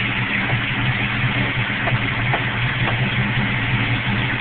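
An Oldsmobile Cutlass with a 350 Rocket V8, Lunati cam and MSD ignition idles with a steady, lumpy low rumble, close by and continuous, no voices present.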